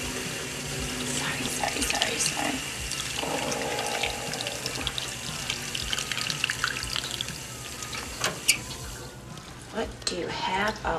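A kitchen-style tap runs steadily at a sink as a bleeding wound is rinsed, a continuous splashing wash with small trickles and drips, with occasional voices and movement in a room underneath.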